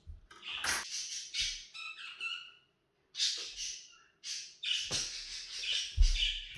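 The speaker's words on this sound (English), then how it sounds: "budgies are quite active at the moment." Pet budgies squawk and chirp indoors in a string of sharp, bright calls and chattering bursts with brief pauses, fairly close and lively.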